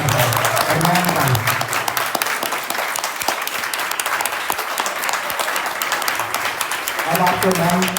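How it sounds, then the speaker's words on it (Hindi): A crowd claps steadily to welcome guests at a career counselling and mentoring program, loud sustained applause from many people, with speech faintly underneath at the start and close. "तालियों के साथ स्वागत करता है।"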